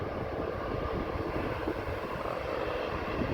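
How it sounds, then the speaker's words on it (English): An SAS Airbus A320neo takes off at Amsterdam airport, its jet engines giving a steady, loud, broadband roar with no break, heard from the spotting area beside the runway. "So SAS A320 Neo"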